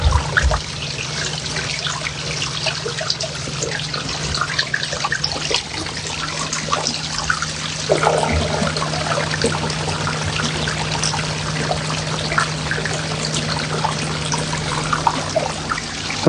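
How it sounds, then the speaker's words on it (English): Water spilling steadily down the larger waterfall of a natural garden pond, a continuous close splashing trickle with no talk. "Okay, so that's the bigger waterfall."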